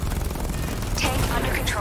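Rapid turret gunfire in the video game Batman Arkham Knight, a continuous close burst of shots with heavy low-end rumble throughout.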